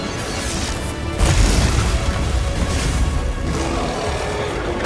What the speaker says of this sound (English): A whole lot of those attacks have a secondary explosion now.